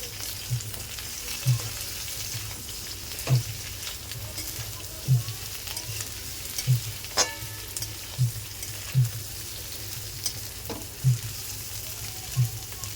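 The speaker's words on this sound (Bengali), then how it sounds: "দিয়ে দেবো ইঁচড়টাও হালকা ভেজে নেব" Steady sizzling of young jackfruit and potato frying in a pan, with soft spatula taps recurring about once a second.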